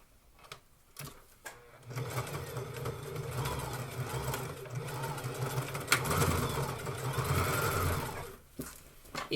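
A sewing machine runs a straight stitch while a fitted wardrobe garment is being altered, a steady close mechanical whirr with rapid needle clatter lasting several seconds, starting and stopping with brief pauses at either end.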